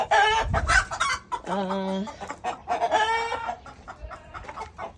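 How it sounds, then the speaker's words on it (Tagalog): Free-range chickens, including large Black Australorps, clucking and squawking close by in a lively, overlapping run of calls, with one drawn-out crowing-like note in the middle. "Ilan sa mga free-range chicken ko."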